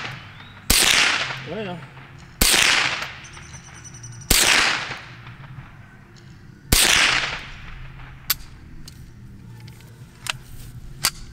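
A Ruger 10/22 .22 semi-auto rifle fires at steel plates outdoors. Four loud, sharp cracks come at uneven gaps, each with a ringing tail, followed by a few fainter pops, and a voice speaks briefly.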